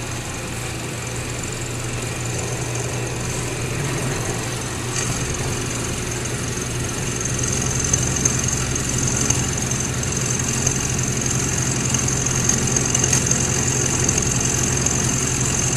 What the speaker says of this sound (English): We're going to fire it up here and cut a piece of aluminum.